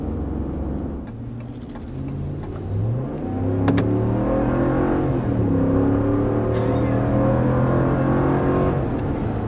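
A Hemi V8 hybrid pickup truck engine revving up hard, its pitch climbing through gear shifts and settling into a strong sustained roar, heard from inside the cab.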